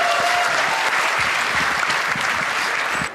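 Audience applause fills a stand-up comedy show, a dense, steady wash of clapping that holds for about three seconds at full volume before tapering slightly at the end.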